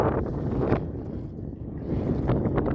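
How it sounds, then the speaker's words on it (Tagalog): Strong wind buffets the microphone out at sea on a fishing trip, with continuous low rumbling gusts swelling and easing over a few seconds, with no talking. "Ang lakas ng hangin mga master."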